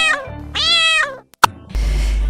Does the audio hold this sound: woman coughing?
no